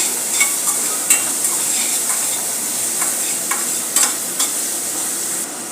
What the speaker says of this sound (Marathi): यामध्ये आपण घालणार आहोत थोडासा कांदा हे चांगले परतून घेऊया